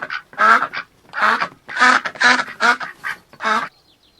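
Duck quacking in a series of about seven loud, close, raspy quacks at an uneven rhythm, heard alone with no other sounds.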